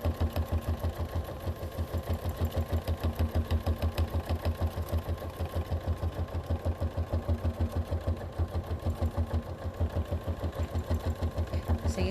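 A sewing machine runs steadily through free motion bobbin work on a quilting test piece, a dense rapid mechanical whir with an even stitching rhythm that holds close and loud throughout, with no voices.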